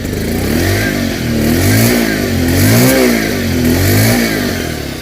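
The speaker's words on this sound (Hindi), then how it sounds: "अब एक बार इसके थ्रोटल को एक्सीलरेट करके उसके बाद सुनाता हूँ" A 2025 Bajaj Pulsar 125 motorcycle engine revving hard under repeated throttle blips. The pitch rises and falls in loud, close waves over a steady mechanical rumble, and no voices are heard.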